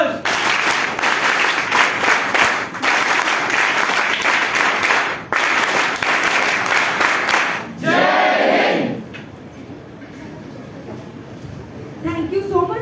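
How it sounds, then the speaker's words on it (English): An audience at an awareness session on menstrual cycle and hygiene claps for the NSS in a loud, dense, sustained burst that ends abruptly after about nine seconds, leaving quieter room sound with some voices. "NSS clap goes"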